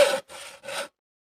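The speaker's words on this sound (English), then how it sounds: "Harvey saws the board along the lines he drew." A hand saw cuts through a wooden board in three close, rasping strokes, each under a second, with short pauses between them, then quiet.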